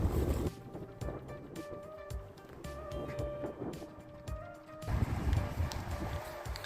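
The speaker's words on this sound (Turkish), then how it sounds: "Şu an çok rüzgar olduğu için karşı tarafından çekim yapmaktayım" Wind buffets the microphone in a steady outdoor roar, with a harder gust near the end and faint tonal hums underneath.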